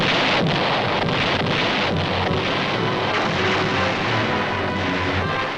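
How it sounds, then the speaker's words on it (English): Naval bombardment of Okinawa in 1945 on old newsreel sound: a continuous, dense roar of distant gunfire with faint repeated thuds beneath a hissy, wind-like wash. "First, the bombardment."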